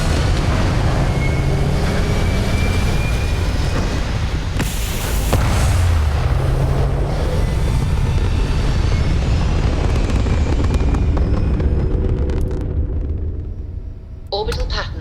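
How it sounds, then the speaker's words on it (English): Spaceship liftoff in the video game Starfield: a loud, continuous roaring rumble of engines builds and holds for many seconds, then thins out near the end with some brief higher electronic tones. "Prepare for liftoff."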